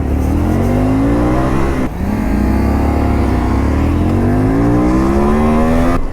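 A motorbike engine revs hard in Paris traffic, loud and close, with rising whines that climb in pitch, one sharp break, then another long rising rev.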